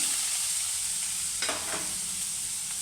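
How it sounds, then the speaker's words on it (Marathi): Sliced onion drops into a generous amount of hot oil for a Konkani-style chicken curry, giving a constant close sizzle with a brief crackling flare midway. "आता आपलं तेल तापलेलं आहे मी थोडं नेहमीपेक्षा जास्त टाकलं आहे तेल आता मी हा कांदा टाकते"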